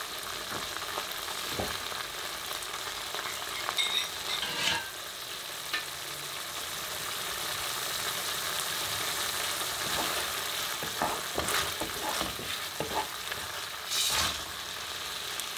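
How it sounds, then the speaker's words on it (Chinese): Sweet and sour sauce sizzling and frying in hot oil in a wok for pineapple sweet and sour pork, a steady crackling hiss with stirring clatter and brief louder spatters, close up and alone without talk. "油温不要太高的时候，就可以把糖醋汁儿放下去，否则油温太高它就会爆。"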